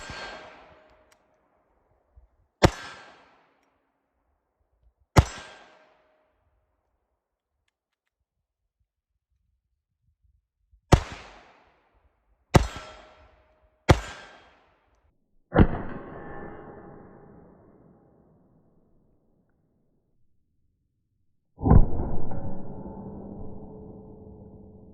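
A CZ vz. 27 pistol fires shots one at a time through a magazine, with nine sharp, isolated reports at irregular intervals, moderately loud and dry, and no voices.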